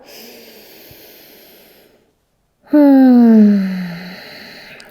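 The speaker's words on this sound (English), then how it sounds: "Big inhale. Fill up your back space and exhale, sink." A deep breath during a bedtime yoga flow, a long, soft exhale followed by a pause of silence, then a loud, breathy, close inhale or sigh that slowly fades. No one speaks.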